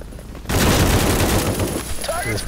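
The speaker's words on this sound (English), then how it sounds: "The guns feel good. The sound's good." Sustained automatic gunfire in the video game A.W.O.L erupts after a half-second lull, a loud dense fusillade of rapid shots continuing to the end with crackling bursts layered over it.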